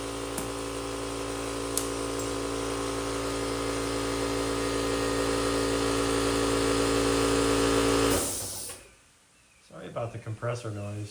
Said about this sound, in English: About the compressor noise.